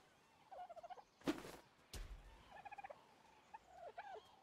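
A dodo in ARK: Survival Evolved gives short bursts of rapid gobbling clucks, several quick runs of them, broken by two sharp loud hits in the middle, all moderately faint.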